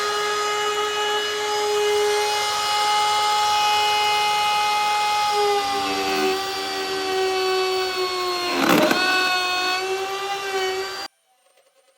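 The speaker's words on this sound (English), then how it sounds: "We ended up doing a couple passes to get the correct depth that we needed, and once we were finished with the router," Router cutting a roughly 2-inch-deep rabbet into wood over a couple of passes for a bathroom bar install, a loud steady high-pitched whine that dips under load mid-cut, then stops abruptly near the end.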